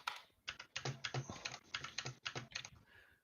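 Quiet, close typing on a computer keyboard: irregular bursts of crisp key clicks with short pauses between, heard alone.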